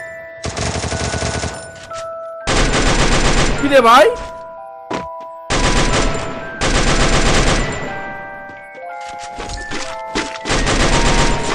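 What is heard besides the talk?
automatic gunfire in the video game Free Fire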